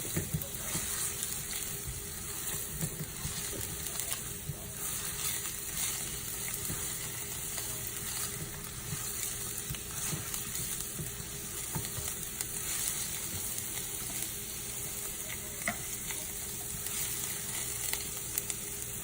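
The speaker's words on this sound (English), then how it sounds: "Then you're gonna add the onions and saute it until it's translucent." Chopped onions sautéing in olive oil in a pot as the base for risotto, a soft, even sizzle that runs continuously throughout, close and fairly quiet.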